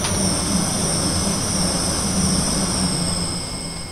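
Class 180 diesel multiple unit passing at speed around 75 mph in Train Simulator 2020, a steady loud rumble with a sustained high whine throughout, easing slightly near the end.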